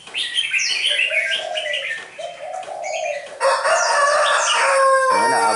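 Caged red-whiskered bulbuls squabble in a noisy, constant stream of loud overlapping chirps and harsh calls, rising even busier near the end, with no talking.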